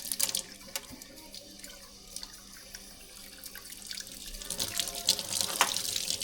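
Tap water running into a sink while boiled eggs are peeled under it, a gentle splashing flow with scattered drips and clicks, swelling louder toward the end.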